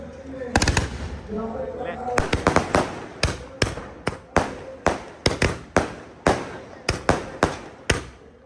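Firecrackers set off at a Chhath Puja celebration, a loud close string of sharp bangs in quick, uneven succession, with a few people talking over the first bursts.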